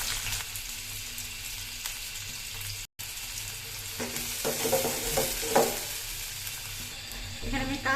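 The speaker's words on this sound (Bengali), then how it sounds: "এখানে আমি তেল দিয়ে দিলাম, গরম মশলা দিচ্ছি, পেঁয়াজটাও দিচ্ছি" Sliced onion and garam masala fry in oil in a home kitchen pan, giving a continuous crackling sizzle broken by stirring scrapes and clatter, with one brief cut-out partway through.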